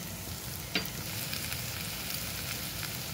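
Ground spices such as chilli, pepper and cumin sizzling in a pan, a soft continuous frying hiss with one brief clink of a stirring spoon near the start.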